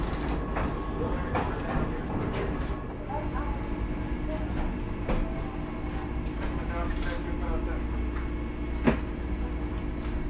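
Vande Bharat Express train pulling into Gurgaon station, a steady heavy rail rumble with scattered clicks and knocks throughout, with faint voices in the background.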